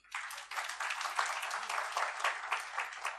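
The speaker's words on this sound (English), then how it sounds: "We should clap for him." Steady, dense applause from a seated audience at an international business forum honouring Latin American ambassadors, fairly close and continuous for the whole stretch with no speech over it.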